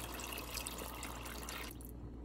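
Tap water pours steadily into a pot holding chicken gizzards and hearts in a home kitchen, a continuous close rushing splash that cuts off near the end.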